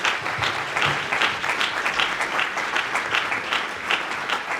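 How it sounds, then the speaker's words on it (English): Guests at an end-of-season awards dinner give a full round of applause, thick and continuous with a gently pulsing intensity throughout. "one more round of applause for co-chairman Lee Conlett."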